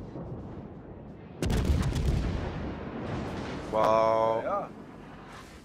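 A ship detonation in the naval combat game World of Warships: a sudden loud boom with rumbling debris, then a ringing explosion effect, under the player's short exclamations.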